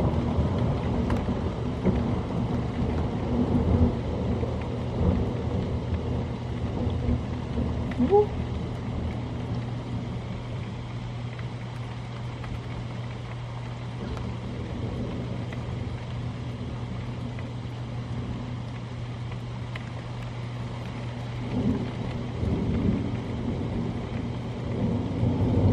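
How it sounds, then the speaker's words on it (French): A thunderstorm outside brings a steady low rumble of thunder over continuous rain hiss. The sound is heard from indoors and holds a fairly even level throughout, with a few faint swells. "il y a un foutu orage dehors."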